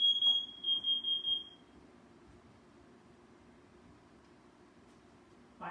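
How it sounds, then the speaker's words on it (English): A basement smoke alarm, set off by zucchini cooking, gives a short series of shrill rapid beeps and then stops, leaving a quiet room hum and one faint sound at the end. "I hope you enjoyed the fire alarm sounding video."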